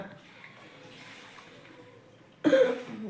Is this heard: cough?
yes